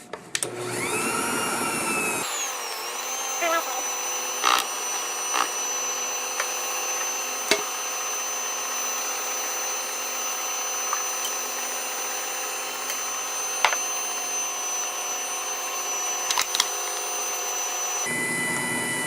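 Electric mixer blending sour cream into New York style cheesecake batter, a steady high whirring motor that spins up at the start and runs continuously, close, with occasional light knocks of the beaters against the bowl.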